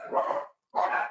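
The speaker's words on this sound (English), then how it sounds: "Sorry for the dog." Dog barks twice in close succession, loud and near, with a short silent gap between the two barks and no talk over them, interrupting an online scientific talk held at home.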